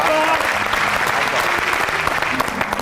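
A studio audience at a singing show applauds loudly and continuously, a dense wash of clapping filling the whole moment.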